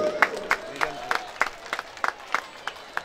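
Crowd applause at a football tournament final ceremony, a run of sharp, evenly spaced claps fairly close, with background voices and a murmuring crowd.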